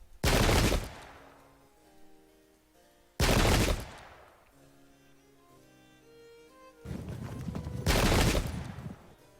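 Artillery fires in the English Civil War game Pike and Shot: three separate booming blasts, each a sharp loud burst with a fading rumble, spaced a few seconds apart, the last longer and rolling.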